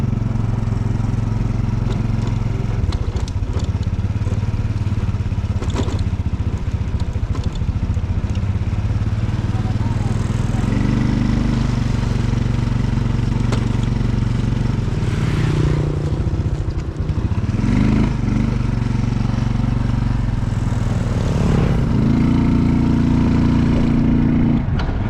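A motorcycle ridden on the road back into town near the Lao–Thai border, its steady engine drone loud and continuous throughout, with rising and falling pitch as it changes speed, and faint wind noise.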